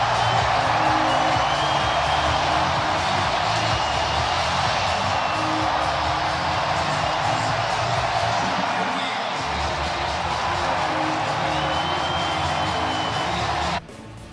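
A sellout crowd of 34,000-plus at Progressive Field roars before the first pitch of Game 3 of a 2022 MLB postseason series, a dense, continuous, distant wash of noise that holds for about fourteen seconds, then drops off abruptly.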